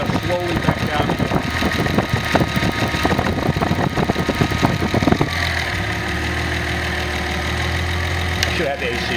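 A car engine idles through an idle air control test, starting with a rough, knocking rattle and then settling at about five seconds into a steadier, smoother hum that holds at a raised idle.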